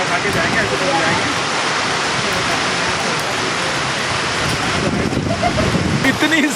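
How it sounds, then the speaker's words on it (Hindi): Heavy rain lashes down at a cricket ground during a youth tournament, a thick, steady hiss of pouring water that stays loud and near throughout. "इतनी जबरदस्त बारिश।"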